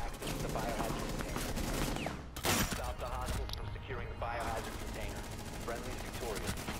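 Rapid automatic gunfire in a video game, aimed at a bomb, rattling in dense sustained bursts with a sharp loud crack partway through, close and continuous.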